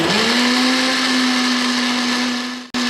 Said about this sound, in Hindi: ब्लेंडर को मैंने इस तरह से चलाया है कि 30 सेकंड के लिए चलाया, फिर रोक दिया।